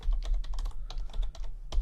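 Rapid computer keyboard typing fills the moment as rules are entered into LimaCharlie endpoint protection software, a dense run of clicky keystrokes, close and fairly loud over a low background hum, with no voice.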